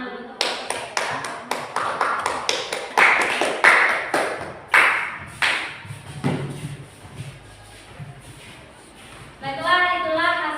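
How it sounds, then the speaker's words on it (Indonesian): A classroom group claps for the first discussion group, with sharp, quick, close claps that fade out over several seconds, then a brief burst of chatter. "Sekarang kita beri tepuk tangan dulu untuk kelompok 1 ya"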